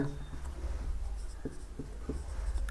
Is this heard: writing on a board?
yes